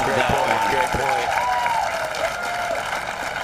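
A crowd applauds a great rally point at the Orange County Cup doubles match. A dense, sustained clapping wash runs throughout beneath an excited commentator's voice.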